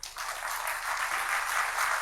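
A crowd at a comic speech applauds with a bright, continuous wash of hand clapping that starts abruptly and holds steady.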